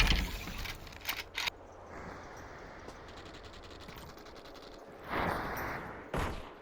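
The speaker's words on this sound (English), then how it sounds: "I hear some gunshots. Sounds like just ranged AKM spray for now." Distant AKM rifle fire in the VR shooter Population ONE, scattered bursts and clattering shots at moderate level, with quieter sustained background noise between them.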